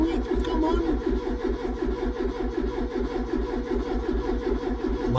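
Ford Cortina P100 pickup, sitting unrun for seven months, cranking on the starter without catching, a steady rhythmic churning loop close by that keeps going throughout.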